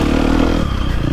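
A 2023 KTM 250SXF dirt bike ridden on a tight woods trail, its engine a loud, steady buzzing drone with slight rev changes and some clatter, close throughout with no talking.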